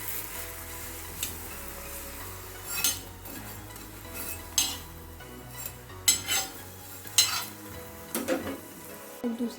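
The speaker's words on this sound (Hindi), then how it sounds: "अब इस पर घी लगाएंगे" Ghee is spread over a sugar paratha cooking on a pan, giving a low steady sizzle under scattered scraping and clinking of a utensil against the pan.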